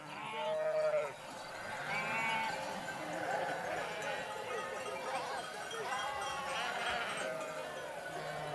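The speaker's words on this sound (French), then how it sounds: "Les moutons sont rodés." A flock of sheep bleats continuously as it heads toward its enclosure, with many overlapping calls near and far over a steady outdoor background.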